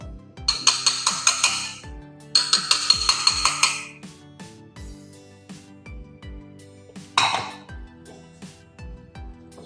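Flour, salt and water for Shaanxi baiji mo bread dough are stirred in a ringing bowl, making two long bursts of rapid scraping and clinking, followed by sparser single knocks and a final short scrape, all close by.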